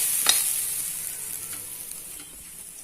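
Coconut dry-roasting in a heavy pan over low heat, a soft steady hiss with a faint scrape or two of stirring, close and quiet, no voices.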